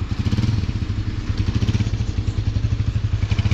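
Several motorcycles idle together in a queue, a close, steady low engine rumble with rhythmic pulsing putter and light clatter throughout.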